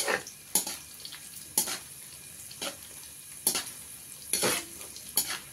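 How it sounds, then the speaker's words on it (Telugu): Semolina toasting in ghee for kesari, a soft steady sizzle broken by repeated scraping stirs of a spoon against the pan, about six strokes spread across the clip, close and moderately quiet with no talking. "మాడకుండా అలా బాగా నెయ్యిలోనే ఫ్రై చేసుకుందామండి"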